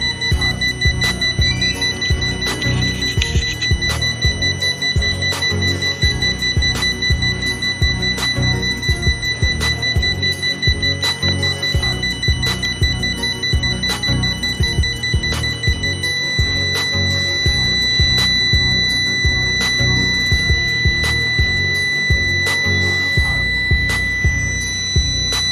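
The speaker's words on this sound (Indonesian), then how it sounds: "alarm seketika berbunyi" A motorcycle anti-theft alarm sounds loudly and continuously, a rapid, ringing, bell-like electronic pulse repeating without pause throughout, with no voices.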